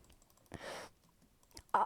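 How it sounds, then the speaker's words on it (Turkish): A few sharp computer mouse clicks during video game play, close and brief, separated by quiet gaps with a soft breath in between. "arkadaşlar mouse tıklama sesi biraz fazla gelebilir."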